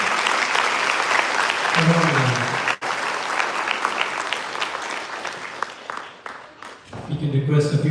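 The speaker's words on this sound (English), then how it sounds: "A big round of applause one time for" Sustained audience applause at a Kuchipudi dance debut, broad dense clapping throughout, with a brief dip near the middle and a voice speaking over the crowd at the start and end.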